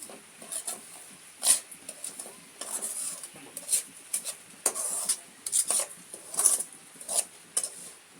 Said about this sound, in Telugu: ఈ పచ్చి వాసన పోయిందాకా వేపుకున్నామండి